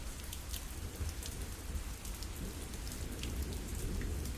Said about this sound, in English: Rain's tapping away at the awning